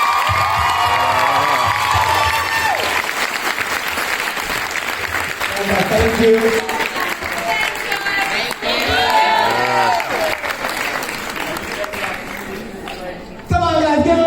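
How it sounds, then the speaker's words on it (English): An audience at a 2019 fan Q&A with two actresses claps and cheers loudly, with whoops and shouting voices in a sustained, close crowd roar; someone speaks briefly amid the noise. "Guys, give them a huge round of applause."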